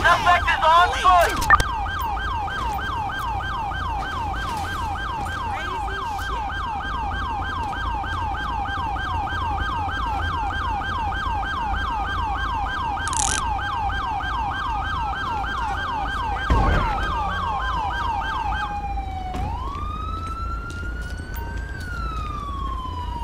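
Ambulance and police sirens wail in GTA 5, loud and close, with overlapping rising and falling tones. A whooping yelp cuts in midway and a single siren sweeps up at the end over a low engine rumble.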